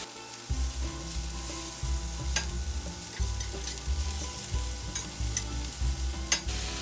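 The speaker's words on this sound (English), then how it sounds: "now that we got our onions cooking nice and hot here, stir it up a little bit." Onions sizzle in a hot cast iron pan while a utensil stirs and scrapes them, a close continuous frying hiss with repeated low thumps and scraping strokes throughout.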